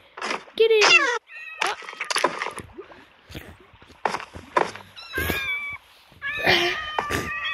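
A kitten meows several times in high, wavering cries inside a skyscraper building game, alternating with a person calling out loudly nearby.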